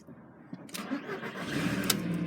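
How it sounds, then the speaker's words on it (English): A 2001 Audi TT Quattro with about 99,000 miles cranks and catches, its engine rising from a quiet start into a steady running rumble, close by with no talking. "Looking at the display whilst I start the car"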